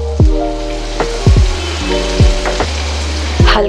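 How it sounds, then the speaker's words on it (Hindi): Chopped garlic fries hard in butter over a high flame for a mushroom and corn soup, giving a loud, steady sizzle broken by several sharp knocks and scrapes as it is stirred. "चलिए अब ऐड करते हैं इसमें फाइनली चॉप्ड गार्लिक. फ्लेम को थोड़ा फास्ट कर लीजिएगा एंड इसे अच्छे से रोस्ट होने दीजिए."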